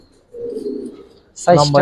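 A single low, drawn-out coo from Giribaz pigeons at a pigeon fair hums nearby for about a second before a voice breaks in loudly.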